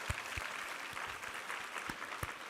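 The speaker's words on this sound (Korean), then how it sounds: "우리 하나님께 감사와 영광의 박수 올려드리겠습니다" A church congregation claps together during Sunday worship, a faint, dense patter of many hands with no talk over it.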